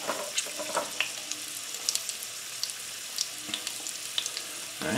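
Lamb pieces frying and browning in a pan give a soft, steady sizzle with scattered light crackles and pops, moderately quiet and heard alone without talk.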